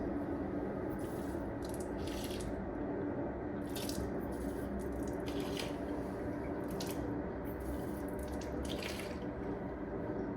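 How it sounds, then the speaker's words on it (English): Water runs steadily from a tap while a person rinses the mouth three times during wudu, with splashing, swishing and repeated bursts of spitting over the continuous flow. "He's going to rinse his mouth 3 times"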